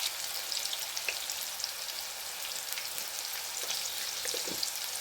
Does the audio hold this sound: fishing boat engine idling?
no